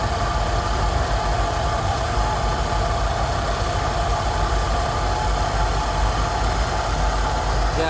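Rolls Royce Silver Shadow engine idling steadily while its carburettors are tuned, a continuous close, even rumble with a low vibrating hum and no change in pace.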